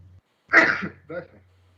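A single sharp sneeze up close, followed by a short vocal sound, in an otherwise quiet room.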